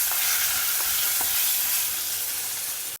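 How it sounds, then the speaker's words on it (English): Drumsticks sautéing in hot oil give a steady, close sizzle with a few soft stirring scrapes near the start, then hold an even hiss with no talking. "Saute them in the oil for 1 or 2 minutes."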